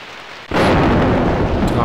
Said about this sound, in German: Der Regen wird lauter